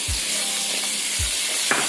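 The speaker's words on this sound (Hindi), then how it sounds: "ये सारा कुछ बहुत अच्छे से मिक्स करना है और इसको भूनना है कि ऑयल छोड़ दे" Tomato, chili flakes and onion frying in oil, a loud, steady hiss with a few low thumps of stirring, brief and close.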